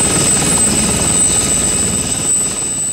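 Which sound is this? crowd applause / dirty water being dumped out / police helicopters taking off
police helicopters taking off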